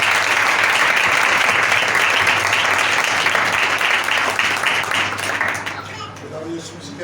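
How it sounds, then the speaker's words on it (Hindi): Congregation clapping loudly at a Sunday church service, a dense, steady wash of applause that thins and fades toward the end. "आइए जोरदार तालियां बजाइए।"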